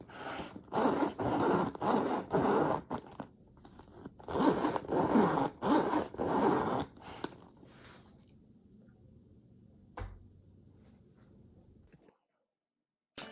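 Zipper on a Louis Vuitton Vanity PM bag with reported zipper problems being drawn closed, several rough, scratchy pulls in close bursts that stop and restart, then fading to quieter handling and a single soft knock.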